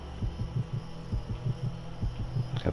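Heartbeat sound effect from The Silver Case video game: a steady run of deep, muffled double thumps pulsing evenly about every third of a second over a low hum, with no voices.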